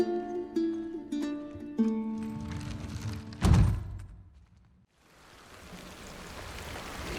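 Game rain falling outdoors, a hissing wash of raindrops that follows a few tonal hits and a heavy thud, fading briefly before the steady downpour returns, with no voices.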